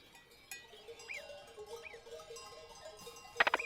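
Scattered bleats from a few goats in a mountain herd over a faint outdoor background, with a clanking bell burst near the end.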